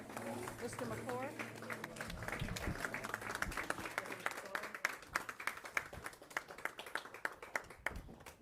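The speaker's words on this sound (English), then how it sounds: "round of applause." Applause breaks out at a school board of education meeting, a room full of people clapping steadily and fairly loudly for several seconds, with some voices mixed in and a few sharper claps toward the end.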